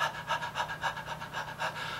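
A person imitates a dog's panting with quick, rhythmic breathy huffs, about eight even pulses in two seconds, close and clear with no other sound.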